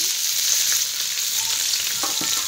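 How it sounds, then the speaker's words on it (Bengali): Chopped onion fries in oil in a kadai for a Bengali shutki and kochur loti dish, a loud, constant close hiss of sizzling with a few faint clicks and no speech. "পেঁয়াজটা আমি লাল লাল করে ভেজে নেব।"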